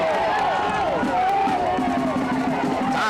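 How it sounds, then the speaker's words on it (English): A high school football crowd rumbles in the stands, a steady murmur with scattered cheers rising under a voice talking. "Crowd's coming alive now."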